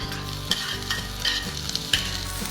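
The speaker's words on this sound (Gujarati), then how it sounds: "કાંદો, ટામેટું, લસણ સાતળાઈ ગયું છે તો હવે અંદર નાખીશું બારીક છીણેલી લીલી હળદર." Grated green turmeric, onion, tomato and garlic with ginger-garlic paste sauté in ghee, giving a loud, steady sizzle punctuated by repeated spatula scrapes and knocks against the pan.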